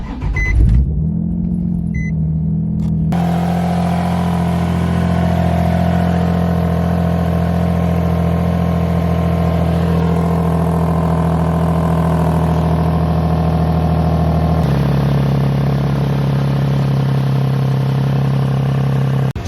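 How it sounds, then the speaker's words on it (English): A Nissan 350Z cold-starts after an exhaust leak repair: a quick cranking burst catches into a loud, high idle that holds a steady drone, then settles to a lower pitch near the end. "I'm gonna do a cold start and then go check to see if it's fixed"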